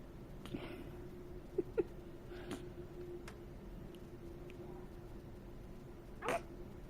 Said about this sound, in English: You got some hiccups?